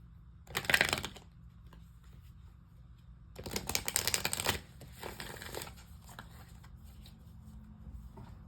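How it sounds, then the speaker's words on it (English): Oracle cards are shuffled in quick riffling bursts, one short and a longer one, followed by softer shuffling against a quiet low hum. "shuffling the cards that I will be using"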